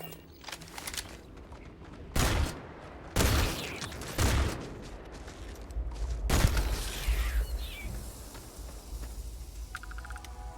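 Gunfire in the Starfield game, several loud bursts of shots separated by short pauses, with mechanical clicks and rattles between and after them.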